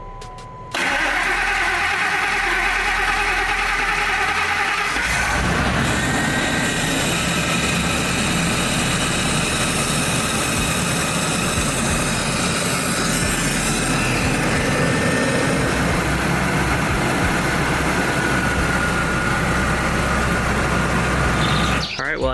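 A Ford SVT Lightning truck's engine cranks and fires on a test start after a catch can install, then runs loud and steady with a rough, throbbing idle close by.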